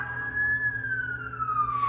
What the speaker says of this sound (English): There are so many goddamn sirens around here.